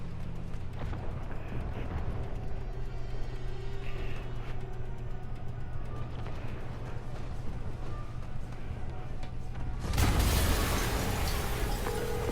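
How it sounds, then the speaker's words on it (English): An explosion in Marvel's Spider-Man on PlayStation 4, a sudden loud broadband blast near the end that follows a low rumbling ambience and lingers as a roaring burst. "an explosion just... I saw it."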